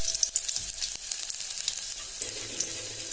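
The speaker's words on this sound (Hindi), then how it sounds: "अब हम इसमें डालेंगे कटी हुई जो अदरक और चॉप गार्लिक और इसे थोड़ा मिला देंगे" Chopped ginger and garlic sizzle and fry in a pan for kadhi pakora, a bright continuous crackle with a few stirring knocks and scrapes, close and alone without speech.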